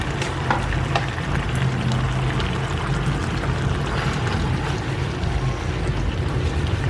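Liquid pours into a cooking pot in a home kitchen, a continuous splashing gush that stays loud and steady from start to finish, with no talk over it.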